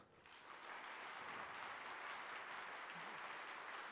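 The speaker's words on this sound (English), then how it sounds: "So if I can ask you, say, this section of the audience to clap for me when I nod my head" One section of a live horse-event audience claps steadily on cue, a dense, sustained wash of applause that swells in and holds at an even level.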